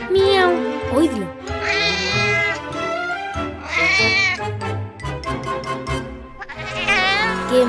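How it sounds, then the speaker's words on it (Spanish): A cat meowing repeatedly, several drawn-out, strongly voiced cries in close succession, loud and near with no pauses for other sounds. "El gato, cuando maulla, hace miau, miau."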